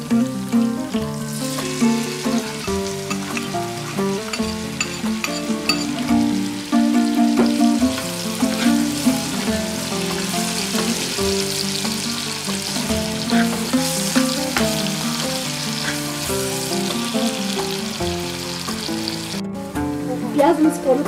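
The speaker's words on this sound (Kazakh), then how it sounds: "ал енді пиязды қоямыз." Onions and meat frying together in oil in a kazan for Nauryz kozhe, with a constant crackling sizzle and occasional stirring under steady background music.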